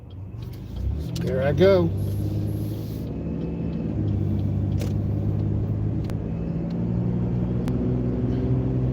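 A gray BMW drives past on a neighborhood main road, a rising engine whoosh and tire rumble close by, then a steady car cabin rumble as a voice speaks briefly.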